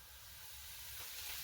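Steady hiss of oil sizzling in a hot pan as food fries, a close, continuous crackle that swells slightly toward the end.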